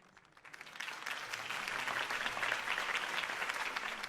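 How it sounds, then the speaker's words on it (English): Steady applause from a large crowd in the video game Batman: The Telltale Series swells in after a quiet start and keeps going, a dense even wash of clapping heard from a little distance. "could have heard that applause"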